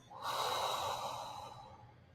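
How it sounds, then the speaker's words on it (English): A single deep breath drawn in and let out slowly, close and clear, a soft airy rush lasting about a second and a half with no talking. "Deep breath in and out."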